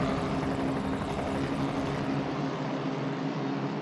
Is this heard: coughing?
no